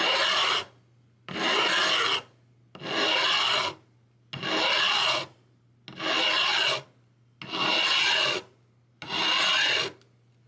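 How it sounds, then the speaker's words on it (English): A metal file scrapes across the nickel, non-stainless frets of a Stratocaster guitar neck in seven loud, even rasping strokes, each about a second long with brief silent gaps, very close and with no voices. "Now also didn't file this fret right here too much."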